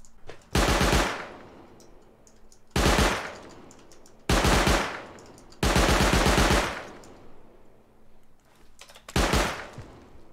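Automatic weapon fire in the survival game Rust, five loud bursts of rapid shots with short quiet gaps between them and no talking.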